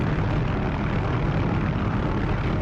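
Helicopter hovering low and steady in the DCS flight simulator, a continuous loud rotor and engine drone with a deep, even rumble throughout, no voices.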